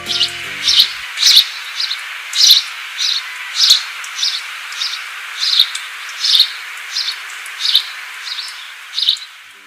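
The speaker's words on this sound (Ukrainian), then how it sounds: "Послухаймо пісеньку з грайки горобців" Recorded song of house sparrows: a series of about a dozen short, bright chirps repeating at a steady pace, clear and isolated over a quiet background.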